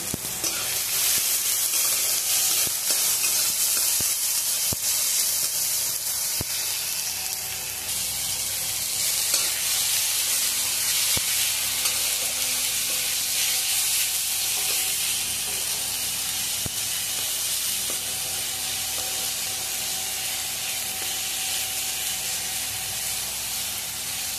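Tomato, ginger and garlic sizzle loudly in a hot frying pan, a steady dense crackle and hiss running unbroken and close throughout, with occasional scraping stirs and no talk.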